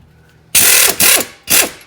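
A ratchet wrench loosens the 14 mm caliper bolts during wheel bearing work on a 2017 Subaru Crosstrek. It gives three quick, loud bursts of close clicking, separated by short pauses.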